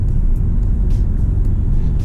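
A car engine hums at raised revs while engine braking downhill at about 40 km/h, a steady low rumble heard from inside with no talk.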